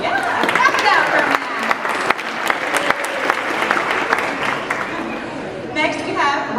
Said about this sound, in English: clap it out for